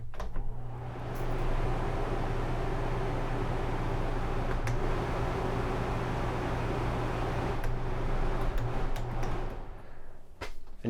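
A rooftop RV air conditioner set to fan only gives a steady, even blowing whoosh with a low hum underneath, plus a few faint clicks near the start and end.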